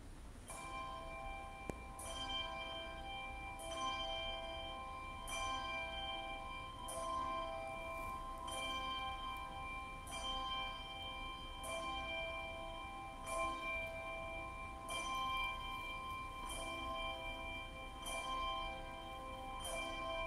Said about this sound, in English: we will sing that opening hymn after the pealing of the bells